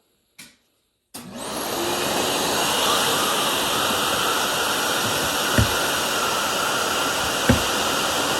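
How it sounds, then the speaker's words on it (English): After a brief click and a moment of silence, a shop vacuum on a workshop MFT out-feed table switches on and roars steadily, broad and hissing, with two small knocks partway through. "Let's turn the vacuum on."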